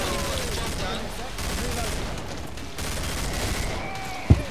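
Rapid machine gun fire rattles in the video game Killing Floor, a dense continuous burst of shots with one sharp louder bang near the end, mixed with other game noise.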